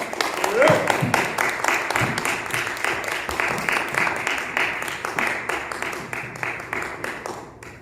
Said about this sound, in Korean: 나오실 때 큰 박수로 맞이해주시겠습니다